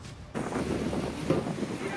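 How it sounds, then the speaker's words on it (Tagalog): Strong wind and rain from Super Typhoon Uwan in Masbate roar as a dense, steady rush that starts abruptly after a short quiet moment, with gusty rumbling close to the microphone. "Alauna ng madaling araw nang magsimula ang malakas na hangin at ulan dala ng bagyong Uwan."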